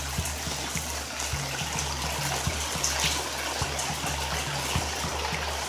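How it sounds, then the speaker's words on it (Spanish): Rainwater trickles and drains off a tarp at a building site, a steady nearby dribble with scattered drips over a constant low hum. "Se escucha bien bonito, como allá en nuestros lugares, cuando cae el agua sobre los techos de metal."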